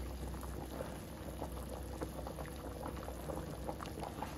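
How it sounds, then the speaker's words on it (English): Steady bubbling of smoked neck bones boiling in a pot at a rolling boil, soft and continuous with small pops throughout, no voices. "I have my smoked neck bones boiling."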